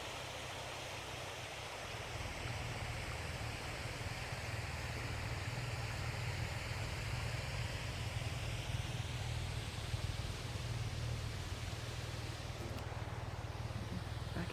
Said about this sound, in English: Just the sound of the water is so peaceful.